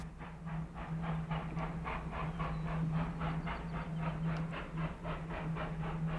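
A Union Pacific steam excursion train rolls past on a photo run-by through signals near a water tank, its steady low hum overlaid by a regular, rapid clickety-clack of wheels that carries evenly from start to finish.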